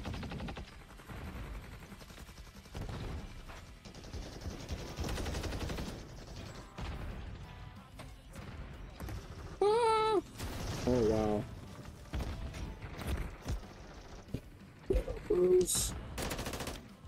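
Rapid automatic gunfire from the Subverter battle rifle in Call of Duty MW3, sustained bursts with explosions in a hectic match, loud and close, with some game voice chatter over the firing.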